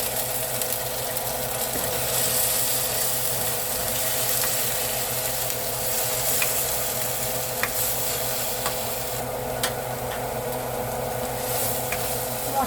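Onion, ginger, garlic and chilli spice paste frying in a pan, giving a steady close hiss and sizzle with occasional soft scrapes and clicks of stirring, continuous throughout without talk.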